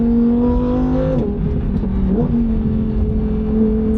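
A 640 hp rear-wheel-drive V10 car accelerating, its engine a loud, steady close drone with a strong rising and dipping tone, a short gear-change dip midway, continuous and with no talking.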